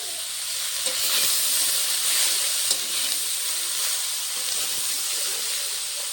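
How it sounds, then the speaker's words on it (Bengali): Cabbage fries in a pan with turmeric and salt, giving a strong, steady sizzle and hiss with the occasional scrape of stirring and no talk. "স্বাদ মতো একটু নুন, নেড়ে চেড়ে বাঁধাকপিটা দিয়ে দেবো"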